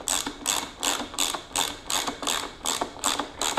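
A 1/4 inch ratchet driver with a 6 mm socket clicks steadily as it tightens a Yoshimura exhaust bracket nut on a Kawasaki Ninja 300, about eight evenly spaced bursts of ratcheting, close and clear with no talking.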